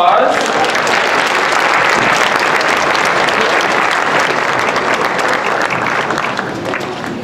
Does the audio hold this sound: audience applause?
yes